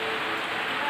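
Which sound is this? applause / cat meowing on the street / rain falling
rain falling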